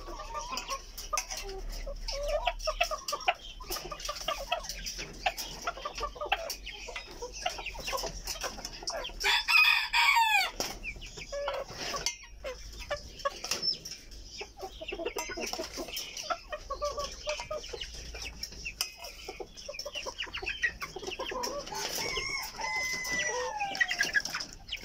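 Silver Lace Polish Frizzle and Silkie chickens cluck and chatter steadily throughout while feeding, and a rooster crows loudly near the middle, with more scattered calls nearby.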